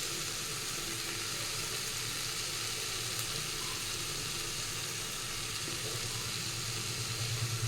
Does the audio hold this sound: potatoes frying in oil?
yes